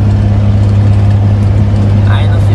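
A heavy truck engine drones steadily and loudly while driving at night in a convoy, a constant low rumble throughout with a brief higher whine near the end.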